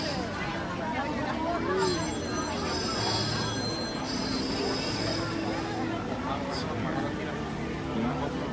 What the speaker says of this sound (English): Oh, and the train's going by.